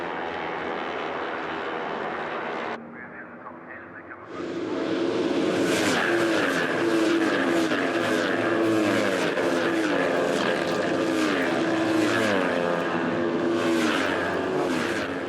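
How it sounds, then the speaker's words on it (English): Many Supersport 300 motorcycle engines scream at full revs at the Phillip Island GP Circuit during an Australian Superbike Championship race, a loud, dense roar rising and falling with gear changes after a brief dip. "There's the sound of a lot of Supersport 300 engines being revved to the absolute limit"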